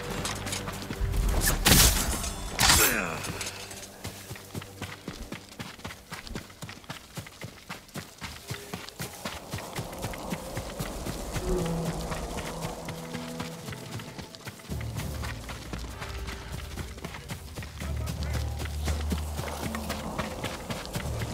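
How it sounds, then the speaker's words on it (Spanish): Horses gallop toward a group in a Game of Thrones video game, a steady clip-clop of hooves running throughout, loud early with a sharp burst, then continuing at moderate level. "caballos. ¡Vienen por nosotros!"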